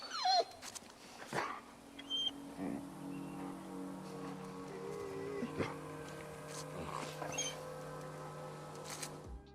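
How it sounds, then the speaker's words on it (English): A dog in The Last of Us 2 whines and whimpers over its dead owner, soft high-pitched cries and yips coming in short irregular bursts with small thumps, fairly quiet with no talking. "The sound of the dog whining whilst trying to lift its owner's arm up is really sad"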